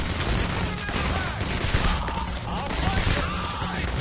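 Rapid automatic gunfire in PAYDAY rattles in dense, continuous bursts, loud and close, with a voice talking faintly underneath.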